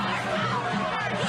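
Crowd of protesters outside the Supreme Court during the Brett Kavanaugh hearings, a steady dense babble of many voices and chatter throughout.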